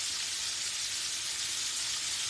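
Neck bones sizzle while cooking, a steady bright crackling hiss of frying fat, close and continuous with no voices.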